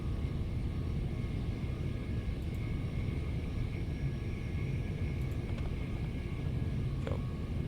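Inside a Class 387 train car on the Brighton Main Line in Train Sim World 4, a constant low ambient whir and rumble carries on, with a few faint ticks and clicks over it.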